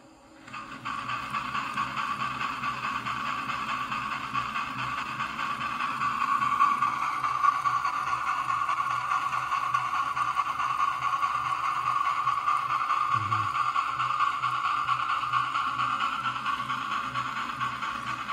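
A model steam locomotive fitted with a Pacific Fast Mail PFM Sound System II spins its wheels as the throttle opens gradually, producing a continuous close whirring, hissing rush that swells slightly and holds steady.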